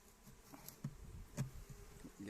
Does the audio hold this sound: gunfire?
no